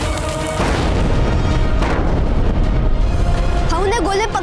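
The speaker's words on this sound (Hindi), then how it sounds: "उसके बाद तो हाकिम खान ने मुगलों के तोपों से मुगलों पे गोले बरसाए" Cannon fire from a Mughal-era battle scene in a TV drama rumbles as continuous loud, dense booming explosions, with a voice briefly cutting in near the end.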